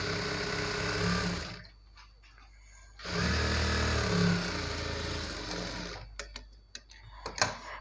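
A sewing machine runs a double stitch on pant cloth for a Punjabi dress, two close, steady whirring runs of a second or more each separated by a pause, followed by a few soft clicks and handling taps.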